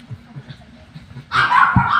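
A dog barking in a home: faint low rustles and murmurs, then a sudden loud, close burst of yipping barks that continues to the end.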